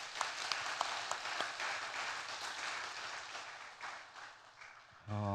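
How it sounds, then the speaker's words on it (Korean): A Korean church congregation at an evening worship service claps for the choir; the applause is steady and moderately soft, gradually tapers off, then ends with a brief burst of a different sound. "세계적인 박수로 한번 격려해 주시죠"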